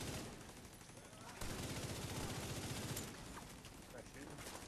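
Rapid bursts of gunfire fill a firefight in The Division 2, coming dense and loud without pause, with voices faintly present.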